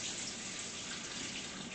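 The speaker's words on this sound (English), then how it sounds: "So I have too much water in it, so I'm going to throw half of that water out." Water rushes out in a steady, faint splashing stream, tipped from a cooking pot while making Puerto Rican pasteles, with a brief louder knock right at the end.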